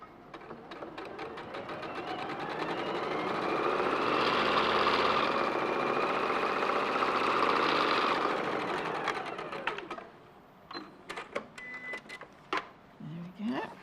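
A sewing machine runs in a steady, continuous burst while stitching narrow quilt strips together, swelling to full speed and then stopping, followed by a few quiet handling clicks.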